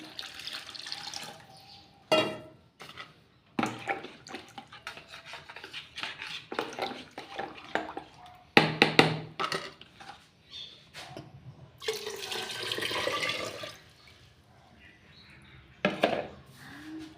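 Water is added to a pot of skimmed milk cream (malai) for churning into butter, heard as irregular bursts of pouring and splashing with scraping and rubbing against the pot between quieter pauses.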